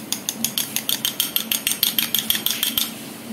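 A whisk or fork quickly beats a salt, oil, butter and egg mixture in a bowl, giving a steady run of about twenty rapid, close metallic clicks that stop abruptly.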